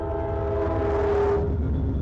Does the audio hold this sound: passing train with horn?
yes